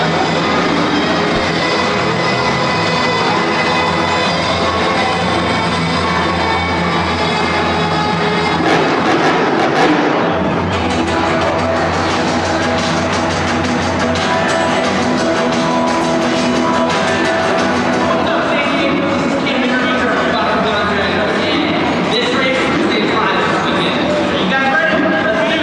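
The heavy engine of the El Toro Loco Ice monster truck at a Monster Jam show in San Diego: a steady, loud roar that swells around the middle of the run, with an amplified voice and crowd noise mixed in.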